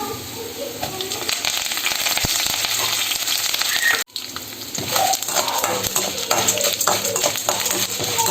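Curry leaves and lentils fry in hot oil for lemon rice, a loud, steady sizzle with crackles, spoon scrapes and a sharp clatter midway.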